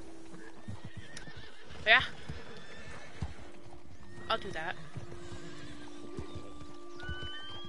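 A horse in the video game Red Dead Online neighs loudly twice and hooves clip-clop steadily beneath someone talking.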